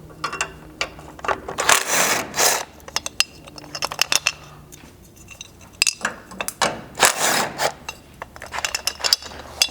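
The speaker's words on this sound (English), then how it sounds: "take a 12mm socket and remove these end caps from both sides of the front frame horns" Ratcheting clicks of a 12mm socket wrench removing end caps from the front frame horns of a third-generation Toyota 4Runner, in short bursts of metallic ticking separated by pauses.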